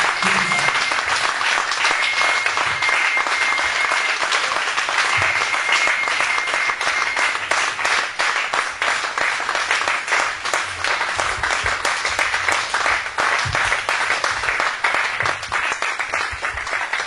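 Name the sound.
church congregation applauding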